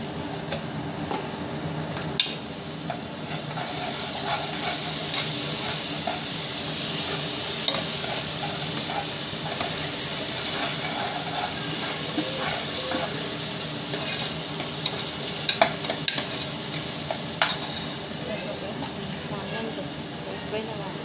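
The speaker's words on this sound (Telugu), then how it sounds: "ఇక అల్లం వెల్లుల్లిపాయ పేస్ట్ వేస్తున్నాను" Ginger garlic paste frying with onions in a hot pan for mutton curry: a steady, close sizzle and hiss with scattered scraping clicks from stirring.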